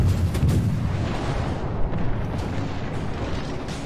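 Ship guns firing in a naval video game battle, a deep, rumbling barrage of heavy booms blending into a continuous low roar for a few seconds.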